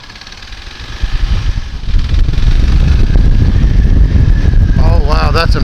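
A Kawasaki KLR650 motorcycle engine runs loudly and close, building from a rough idle into a sustained throaty revving. A rising whine sweeps upward near the end.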